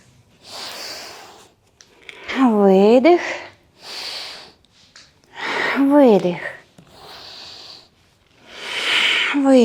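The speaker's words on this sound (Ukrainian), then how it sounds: "Видих. Видих. Видих." Forceful exhalations during a yoga breathing exercise come as several close, breathy rushes of air, alternating with a voice speaking in a steady rhythm.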